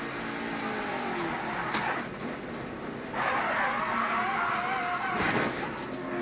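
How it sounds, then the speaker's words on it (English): Race cars in an ARCA stock car crash at the Ansell Protective Gloves 200, with tire skidding and impact noise over steady engine roar; a couple of sharp bursts stand out amid continuous race noise. "You heard the contact, the impact from Kinsey Ruston right there"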